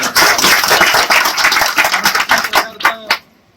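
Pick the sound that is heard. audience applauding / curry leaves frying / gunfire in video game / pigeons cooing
audience applauding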